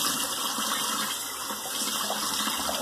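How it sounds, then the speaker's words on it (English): A tap runs for a cold water rinse during shaving, a steady loud gush of water close by with no talking over it. "Okay, cold water rinse."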